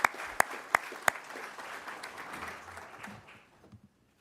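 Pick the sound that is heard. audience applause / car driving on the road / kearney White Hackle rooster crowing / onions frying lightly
audience applause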